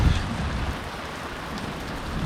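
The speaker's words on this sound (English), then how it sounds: "It is pouring down rain." Heavy rain pours down steadily in a dense, even hiss of drops close by, with a slightly fuller rumble at the very start and no voices.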